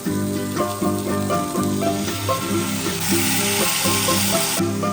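Masala sizzles and crackles in a hot pan, a steady frying hiss with rhythmic scraping of a spoon stirring underneath.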